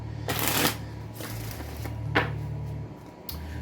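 Tarot cards shuffled by hand in a few quick riffling bursts with pauses between, close and moderately loud over a low steady hum.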